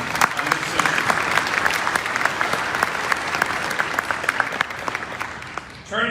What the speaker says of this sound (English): I ask for a round of applause for the great work that they've done